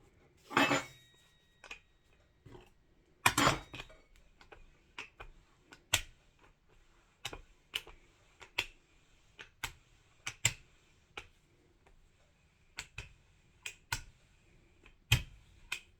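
Egg noodle dough being rolled back and forth with a rolling pin on a floured surface, heard as a series of sharp, separate clicks and taps at an irregular pace, close by, with no talking.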